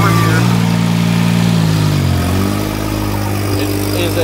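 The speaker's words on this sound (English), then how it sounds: "Got the Kubota pony motor right over here." A Kubota gas pony motor mounted on a forestry bucket truck runs steadily, loud and close, with a constant low engine hum and a slight dip in pitch midway.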